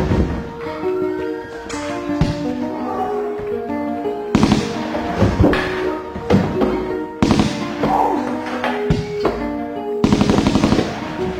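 Gunshot effects in a French rap track, sharp loud bursts of fire punctuating the beat with rapped vocals and music over them.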